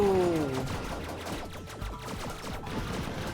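Rapid, dense gunfire from the Platypus Reclayed shooter game, a fast rattling stream of shots lasting a few seconds, loud and close, with a game tone fading at the start.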